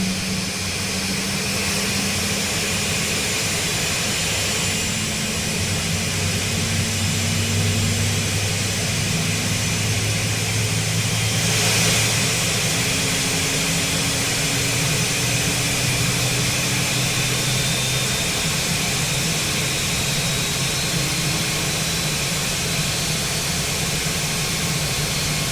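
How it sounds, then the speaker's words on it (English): Number 2 CFM jet engine on an Airbus A319 spooling up during start, a steady broad roar with rising tonal whines, continuous and loud with no talk. "Alright, sounds like a good engine start to me."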